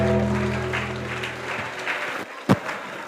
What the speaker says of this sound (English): Please put your hands together for them